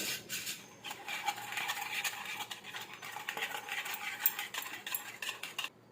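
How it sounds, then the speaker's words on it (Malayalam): A whisk works cornflour into liquid for a chocolate coffee pudding, giving a continuous quiet scratchy clatter of rapid strokes against the bowl, close and without voices. "ഒരു വിസ്ക് വെച്ചിട്ട് നമുക്ക് നന്നായിട്ടൊന്ന് മിക്സ് ചെയ്തെടുക്കണം"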